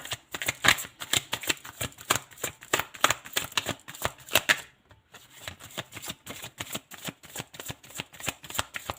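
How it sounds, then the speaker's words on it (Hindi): Tarot cards are shuffled and drawn in rapid, rhythmic riffling bursts, close and crisp, with one brief pause midway before the shuffling resumes. "हम पहले कार्ड निकाल लेते हैं, फिर रीडिंग करते हैं।"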